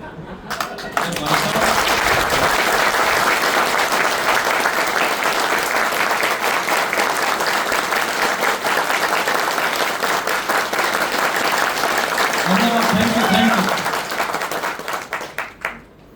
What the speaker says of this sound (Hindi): इतना तेज ताली मत बजाओ।